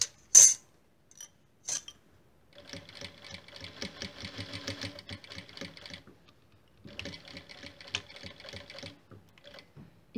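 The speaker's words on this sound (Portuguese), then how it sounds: "E finalizo a costura." Sewing machine stitching the seam of a fabric coaster, running in two steady bursts of rapid mechanical needle clatter separated by a short pause, with a few sharp clicks at the start.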